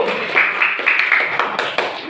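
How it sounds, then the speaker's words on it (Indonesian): A classroom of students claps for group 1, a moderate patter of many hands with uneven bursts, loosely timed and fairly close, lasting about two seconds. "Tepuk tangan untuk kelompok 1"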